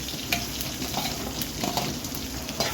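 Small onions sauté in a pan of oil with spices, giving a dense, continuous frying hiss with occasional soft stirring taps, steady and close.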